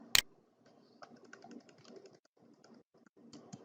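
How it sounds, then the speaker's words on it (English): A computer keyboard in use while a chart title is entered, with one sharp loud click at the start followed by soft, irregular clusters of key taps, close and quiet, with no talking. "let's type in the chart title"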